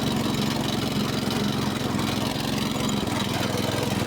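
A new mini tractor's engine runs steadily and loud, with a dense mechanical drone and a slight shift in pitch near the end as the throttle changes; no talk.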